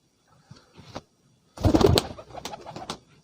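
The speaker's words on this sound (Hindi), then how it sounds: "ये कबूतर है जी" Pigeons coo in soft, throaty bursts, a few low calls followed by a louder, busier stretch of cooing close by.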